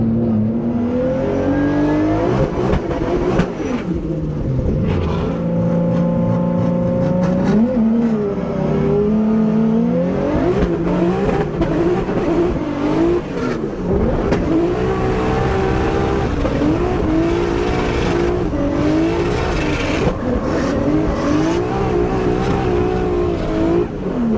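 Drift cars running first laps at a Formula Drift event in Orlando, loud engines revving hard with rising and falling pitch, continuous close roar and bursts of acceleration, no talk.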